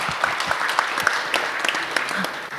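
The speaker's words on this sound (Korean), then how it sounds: "큰 박수 주십시오." An audience claps at an academic AI symposium panel as a speaker is introduced, with crisp, uneven claps over a steady background and a murmur of voices.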